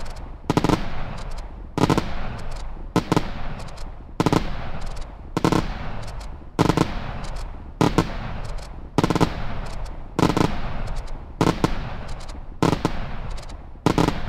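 Brocade crown firework cakes, a set of 200 gram cakes, fire in a steady string of sharp, loud launch bangs, roughly one every second or so, repeating for the whole stretch.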